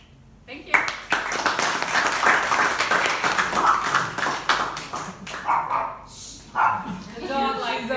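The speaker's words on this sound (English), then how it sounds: "The dog likes it." A dog barks several times in quick succession amid applause and talking at a website copywriting talk, the yips mixed into the crowd noise at moderate loudness.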